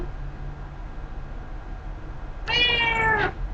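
A pet cat lets out a single drawn-out meow close by, a little over half a second long, over a faint background hum.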